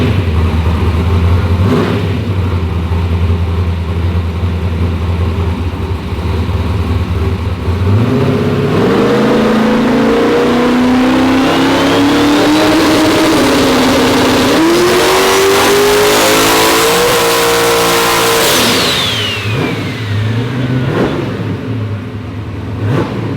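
A high-horsepower car engine on a dyno idles low, then revs up hard in rising steps to a loud sustained scream before dropping off, alone without talk.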